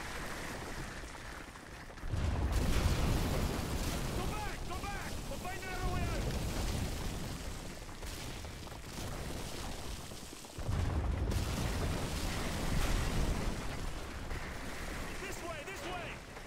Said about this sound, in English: They started the bombardment early.